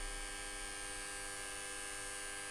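A three-phase squirrel cage induction motor runs at no load near 1486 RPM, giving off a steady, fairly quiet electrical hum with a buzzy edge and no variation.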